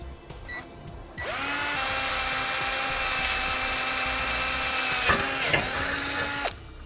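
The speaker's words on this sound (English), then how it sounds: "and drill a small pilot hole." A power drill bores a small pilot hole through a bumper base plate during a tow-bar base plate installation, starting abruptly, running at a steady high whine for about five seconds with a brief dip, then stopping.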